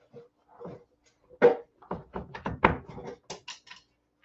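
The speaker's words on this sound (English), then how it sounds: "hold on, I gotta close this door" A door being shut indoors, heard as a string of close knocks, thumps and a solid bang, with small rattles and taps continuing after it.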